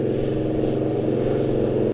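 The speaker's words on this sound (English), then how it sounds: "Roaring up a muddy hill." Toyota Land Cruiser 79 series engine roaring up a muddy hill, a loud, steady low rumbling drone with a pulsing exhaust note that holds without pause until a sudden cutoff.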